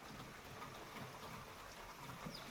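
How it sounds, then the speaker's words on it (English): Steady rain falls outdoors, a soft, even hiss of drops filling the whole stretch at low volume with no speech. "It's just been raining"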